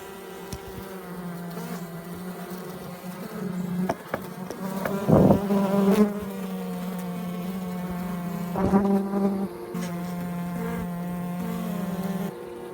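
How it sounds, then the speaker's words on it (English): A loud, continuous buzzing of many honeybees around a queen cage drones throughout, with a low steady hum and occasional louder swells up close. "That's not me rolling that cage, just the bees."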